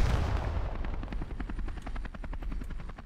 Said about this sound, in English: just like four helos crashed into each other